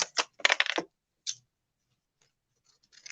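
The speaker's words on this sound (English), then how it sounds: "Trim out this portion of the 4 inches." Scissors cut through fabric with a quick run of crisp close snips, then one more snip and faint rustles after a pause.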